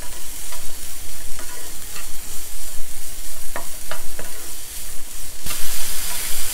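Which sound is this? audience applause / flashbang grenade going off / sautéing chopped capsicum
sautéing chopped capsicum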